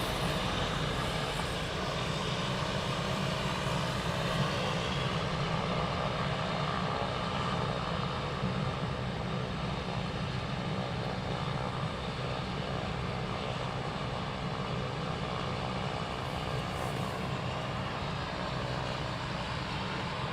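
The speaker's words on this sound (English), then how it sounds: "So it might begin a formation takeoff, guys." BAE Hawk T2 and Texan T1 training aircraft at RAF Valley spooling up for a formation takeoff, a steady, broad, droning engine roar that holds at an even level throughout, heard from a distance with no other sounds standing out.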